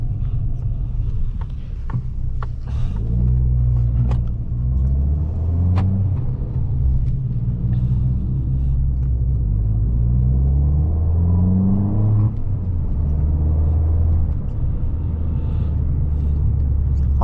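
An Abarth 500's engine hums steadily at cruising speed on a German Autobahn, with low rumbling drone and gear changes rising and falling throughout, no talking.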